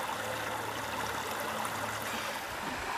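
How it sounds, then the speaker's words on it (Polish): Steady, full rush of falling water from a mountain waterfall on Gran Canaria, constant and fairly close, with no pauses or voices. "Górski wodospad jak z filmów na Discovery Channel"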